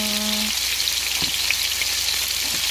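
Cabbage and vegetables stir-fried Japanese yasai itame style give off a steady, dense sizzle with a few light stirring knocks, close by and with no talk.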